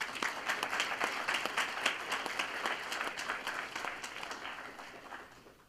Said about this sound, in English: How about a round of applause for both?